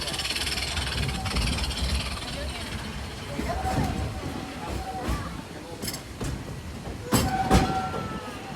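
A Walt Disney World Railroad train rumbles along the rails with steady mechanical clatter, a few sharp metallic clanks and a faint tonal squeal near the end.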